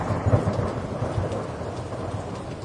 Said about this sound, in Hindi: देखते ही देखते आसमान काला हो गया और तेज बारिश शुरू हो गई।